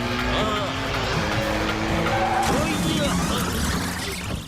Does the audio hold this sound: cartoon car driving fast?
yes